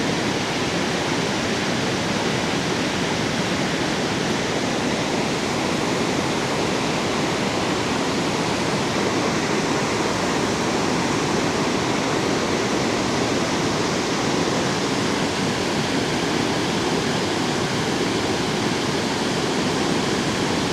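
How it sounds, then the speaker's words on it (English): Cave Falls in Yellowstone pours over a wide basalt shelf, a steady, dense roar of falling water heard from a nearby boardwalk, unbroken and loud throughout with no talk. "Just see that big old shelf of basalt and all that water's flowing over."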